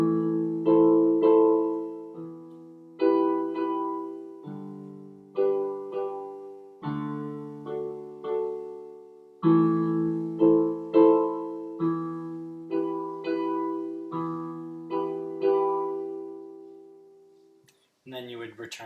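Piano chords play the chorus rhythm of a song, with repeated clear strikes in a slow, lilting pattern and sustained notes ringing between them, close and alone.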